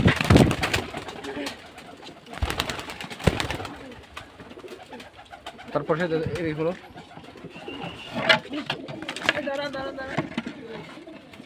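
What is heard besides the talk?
Giribaz pigeons cooing at a pigeon farm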